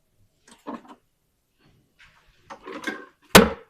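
Kitchen drawer opening and closing with wooden knocks and rattling contents, a few separate bursts ending in a sharp, loud thud, close by with no talk.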